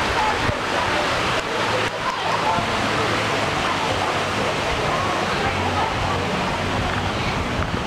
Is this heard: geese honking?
no